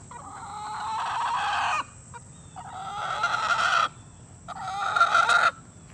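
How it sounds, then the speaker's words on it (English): Polish hens cluck and squawk in three drawn-out, loud vocal bursts of roughly a second and a half each, close by, with brief quiet gaps between them over a low outdoor background. "we haven't named these Polish hens"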